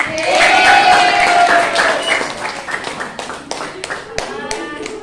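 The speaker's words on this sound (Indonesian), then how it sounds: "Tepuk tangan dong buat semuanya." Classroom applause: a short burst of cheering voices at first, then scattered, uneven hand claps from a small crowd that gradually thin out.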